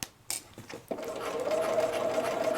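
A sewing machine stitches down the edge of a wrap skirt waistband (Simplicity 8133), a steady close whirring after a couple of short starts, running continuously to the end.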